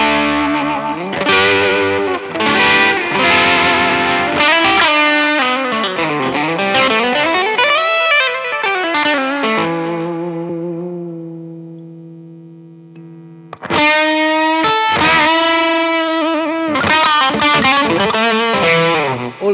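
A Fender Roadhouse Strat electric guitar with Texas Special pickups plays heavily distorted chords and bends, then lets one note ring and fade before loud strummed chords resume.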